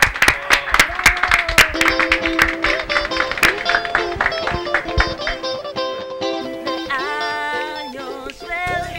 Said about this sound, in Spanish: un aplauso para Kevin